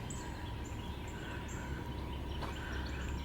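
Birds calling outdoors on a spring morning near dogwood trees, short repeated chirps and whistles scattered at a distance over a constant ambient hiss, with no voices.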